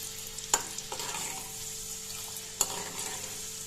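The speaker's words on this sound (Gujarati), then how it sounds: "આપણે મસાલો તૈયાર કરેલો છે એ આપણે એડ કરી દઈશું એમાં" Ground spices go into a hot oil tadka with garlic for Gujarati dahi tikhari, a close steady sizzle and frying crackle with two sharp clinks of a utensil against the pan.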